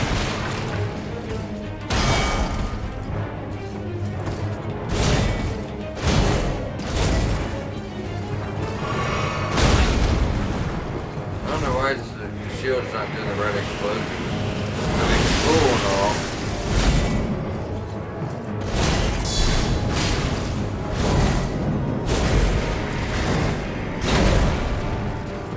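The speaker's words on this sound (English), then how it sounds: "usually when he slams that shield down, it'll do like a delayed explosion." Elden Ring boss fight in the Shaded Castle as the boss slams a shield down and sets off a delayed explosion, a dense stretch of heavy crashes, booms and whooshes with in-game effects and talking running throughout.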